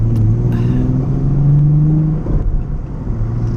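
A Nissan 370Z engine hums and revs steadily from inside the cabin with the windows down, a low droning tone holding for a few seconds before easing off slightly.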